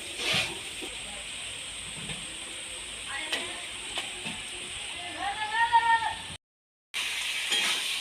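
Chicken pieces drop into fried, well-cooked spice masala for chicken kosha, setting off a steady hissing sizzle in the pan, with a brief faint voice-like murmur near the end.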